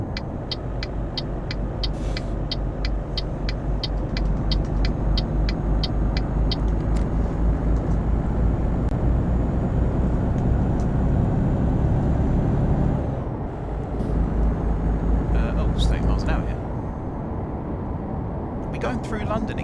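A heavy truck rolls along in Euro Truck Simulator 2 with a steady, loud engine drone. Repeated short clicks tick over the first half, the sound drops away briefly near the middle, then the drive resumes. A voice talks over it.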